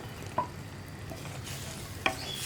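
Carrot and nendran plantain pieces are stirred in a sizzling pan for a Kerala mezhukkupuratti stir-fry, with a soft steady frying hiss and two brief scraping knocks of the spoon.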